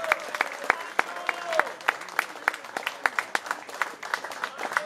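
Applause and scattered individual claps from a concert audience at Sztygarka in Chorzów, greeting the band; sharp distinct claps stand out over a softer crowd wash, with a faint tonal sound drifting underneath.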